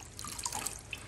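Lettuce is washed in a bowl of water with white vinegar, giving a soft, continuous splashing and sloshing with small drips, faint and close with no talking.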